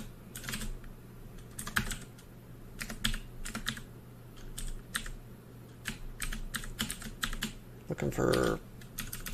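Rapid, close computer keyboard typing during a game of Dungeon Crawl Stone Soup, with quick irregular clusters of key clicks and a brief louder flurry near the end, while someone speaks softly over it.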